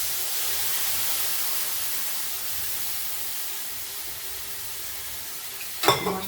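A spice mix sizzles loudly and evenly in hot oil with onions fried red for shol fish kalia, a continuous close frying hiss ending in a brief clatter of a utensil.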